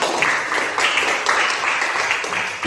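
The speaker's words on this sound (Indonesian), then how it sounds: "tepuk tangan." Classroom students applaud in short, uneven bursts of clapping, fairly close and loud, with several brief pauses between rounds.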